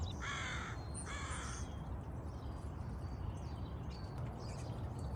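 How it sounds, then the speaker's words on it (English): In the early morning, crows caw twice in quick succession early on, then fainter scattered bird calls drift in over a steady low background hum. "Lots of bird sounds."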